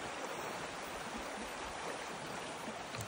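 A fast-flowing river running high at a fishing spot gives a steady, dense rush of water that stays even and moderately loud from start to finish, with no talking.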